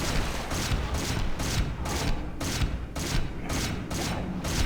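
Rapid bursts of gunfire from an allied character in Hunter: The Reckoning, a dense fusillade of shots pulsing about twice a second, loud and continuous with no talk over it.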